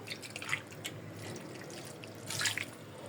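Vinegar pouring into a cooking pot for fish paksiw with eggplant and okra, a faint steady trickle of liquid with a brief louder splash near the end.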